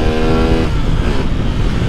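Motorcycle with an aftermarket cam revving hard in city streets, a loud, close, continuous high-revving engine whine that climbs and holds near the top of its range.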